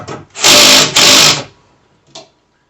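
Power tool driving bolts into a full-motion TV wall mount, two close, loud whirring bursts about half a second each, followed after a pause by a brief short buzz.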